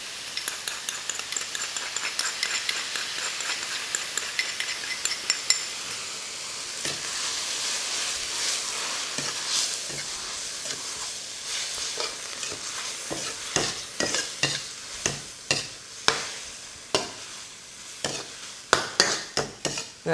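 Japchae noodles are stir-fried with sweetened soy sauce in a wok over medium heat, with a soft steady sizzle under repeated sharp scrapes and clacks of a utensil against the pan that grow louder and more rhythmic.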